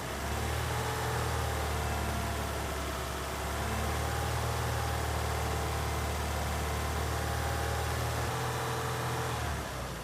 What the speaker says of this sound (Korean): 제가 보여드리기 위해서 직접 악셀레터 케이블을 당겨서 2500을 유지하도록 하겠습니다